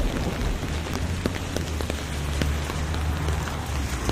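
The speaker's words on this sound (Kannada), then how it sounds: "ಕೆಲವೇ ಸಮಯದಲ್ಲಿ ತುಂಬಾ ಜೋಜೋರಾಗಿ ಮಳೆ ಬೀಳಲು ಶುರುವಾಗುತ್ತದೆ." Heavy rain pours in a forest for a children's cartoon story, a dense continuous patter of drops striking surfaces with a low rumbling undertone, steady and loud, without talk.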